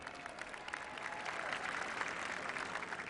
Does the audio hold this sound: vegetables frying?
no